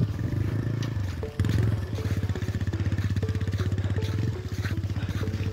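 Motorcycle engine running with a steady pulsing thrum while rattling and clattering over a rough mountain road between Kathmandu and Manang, loud and close throughout with scraping knocks mixed in.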